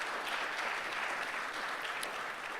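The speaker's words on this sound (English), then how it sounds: "can we give them a round of applause of welcome" An audience applauds to welcome a panel at a conference session of the IAF 2024, steady dense clapping from a crowd heard at a moderate distance.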